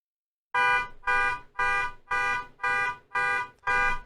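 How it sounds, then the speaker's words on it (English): Car alarm sounding right outside a window, seven loud, evenly spaced electronic honks in a steady rhythm, alone with no talk. "someone went ahead and activated a car alarm right outside my window, and that is really, really distracting"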